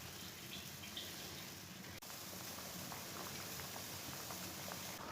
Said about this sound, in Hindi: इसे ना 15 मिनट के लिए बॉईल कर लेंगे।